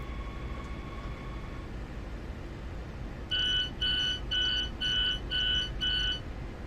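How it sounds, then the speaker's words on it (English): In Train Sim World: Rapid Transit, a train's doors open at a station stop: a low, steady cab rumble runs throughout, then six evenly spaced, loud electronic warning beeps sound in a regular rhythm. "Alright, doors open."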